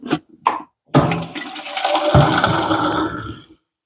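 Water is poured to prime a pump in a single pump setup: a couple of short splashes come first, then a sustained, loud gushing pour that runs for a few seconds before stopping abruptly.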